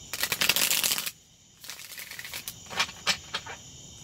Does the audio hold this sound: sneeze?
no